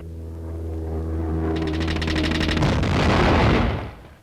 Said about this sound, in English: Hundreds of flying bombs fell to the cannon of Spitfire interceptors.